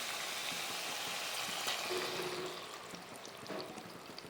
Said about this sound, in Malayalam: തീ ഒരു ലോ ഫ്ലെയിമിന് വെച്ചതിന് ശേഷം നമ്മൾ അരപ്പ് ഇതിലേക്ക് ഒഴിച്ചു കൊടുക്കാം